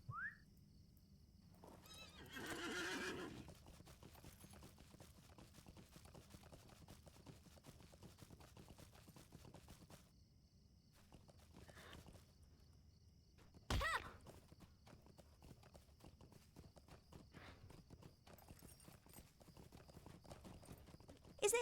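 Horse hooves clip-clop at a steady walking pace in the online game Lord of the Rings Online, with a whinny near the start and a sharp thunk partway through, fairly quiet throughout.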